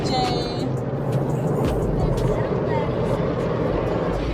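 An automatic car wash running over a car, a steady dense wash of spraying water and machinery noise with brief higher tones at the start, loud and continuous throughout.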